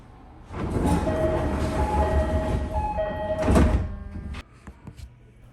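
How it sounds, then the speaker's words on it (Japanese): A JR train at Ofuna station, bound through onto the Tokaido Line, closes its sliding doors with a steady rumble and a short chime, then pulls away with a clunk as the noise drops. "大船駅を発車。"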